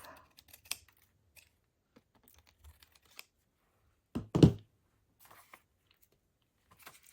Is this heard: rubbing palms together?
no